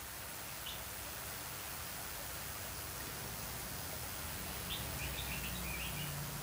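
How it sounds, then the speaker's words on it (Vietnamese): Rainwater spilling steadily out of a white mica trough in a rain filter, a constant loud wash like heavy rain, with faint bird chirps above it and no voices. "Rồi từ cái máng nó sẽ chảy lượng nước ra như thế này."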